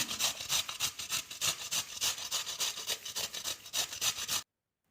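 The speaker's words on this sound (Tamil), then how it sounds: "ஃபர்ஸ்ட் எடுத்து வச்சுருக்க காலிஃப்ளவரை நல்லா துருவி எடுத்துக்கலாம்." Cauliflower florets are grated finely on a hand grater, a steady run of rhythmic rasping strokes, close and fairly loud, ending abruptly in silence.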